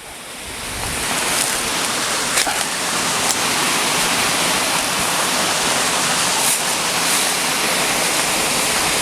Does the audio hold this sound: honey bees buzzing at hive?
no